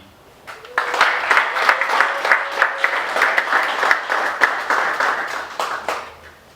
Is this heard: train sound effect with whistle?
no